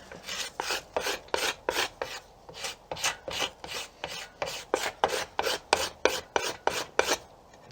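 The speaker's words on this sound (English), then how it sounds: "I'm going to go grab my scraper and show you how far down I want to get." Steady rhythmic rasping of a hand scraper stripping bark from the back of a wooden self bow, about twenty close, loud strokes in even succession with no talk.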